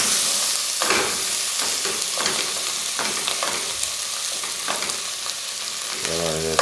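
Corned beef sizzles and fries in hot oil in a pan, a steady close crackling hiss with occasional stirring scrapes throughout.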